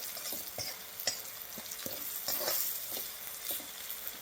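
Turmeric is stirred into fried onion and tomato in a pan, with a continuous soft sizzle and repeated light scrapes and taps of a spoon against the pan.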